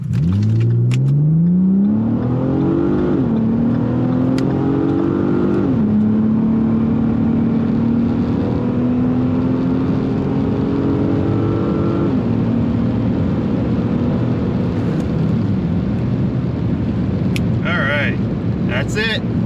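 A Ford Taurus SHO accelerates hard with traction control off, its engine climbing through several gears in a steady rising whine with clear shift drops, heard from inside the car over wind noise.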